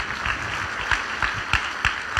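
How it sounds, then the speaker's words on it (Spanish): Rhythmic clapping from a congregation during a church service, a steady run of claps with a few sharper accents, heard at moderate distance over a roomy background. "Denle un aplauso a Jesús"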